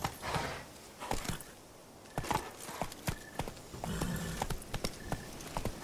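Hooves of Roach, Geralt's horse in The Witcher 3, clopping at a walk in an irregular rhythm, close and clear, with faint ambient background between steps.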